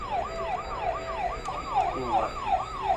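An ambulance siren wails in a rapid, repeating up-and-down sweep at moderate distance, steady across the whole stretch with faint road noise beneath.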